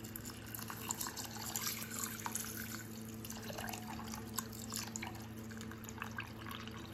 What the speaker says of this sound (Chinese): 加入多一些的清水